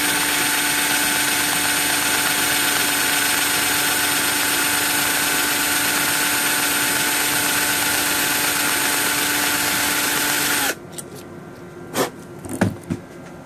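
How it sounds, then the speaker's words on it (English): A power drill spins a drill bit to hob a bolt for a RepRap 3D printer, a loud steady whine lasting about ten seconds before stopping abruptly, followed by a few faint clicks and handling knocks. "I just need to keep the bit straight while I'm hobbing"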